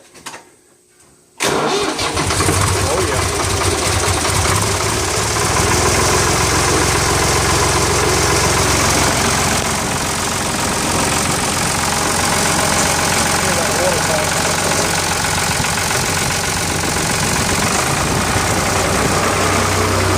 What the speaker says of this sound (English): See if it'll fire up this morning.